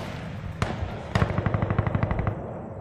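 Video game gunfire, with one shot and then a rapid automatic burst of about a dozen evenly spaced rounds, loud and close, with no talking over it.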